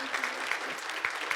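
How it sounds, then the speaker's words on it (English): A conference audience applauds a presenter named Melissa: a brief, moderately loud patter of clapping hands from a crowd, steady throughout with a few sharper claps standing out. "Let's give Melissa a round of applause."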